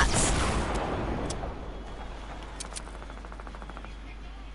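SMG fire in Fortnite: a loud opening burst of rapid shots fades quickly, followed by scattered faint distant pops and a brief rattle later on.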